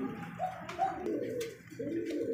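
A pair of Danish pigeons cooing at a pigeon sale, soft repeated throaty coos close by over a faint room murmur.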